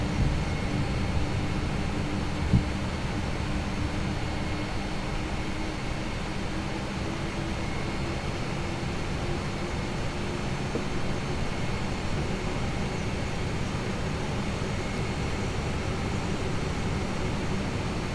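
A steady, dull airplane engine drone from a flight simulator game, an airliner flying in the Falkland Islands, hums on as an unchanging broadband roar with one small click near the start.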